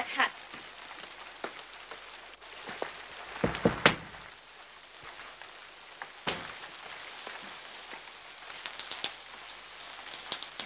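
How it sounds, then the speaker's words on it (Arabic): Heavy rain falls outside, a continuous patter and hiss of drops on surfaces with a few louder splashes and knocks. "بره في مطر كتير"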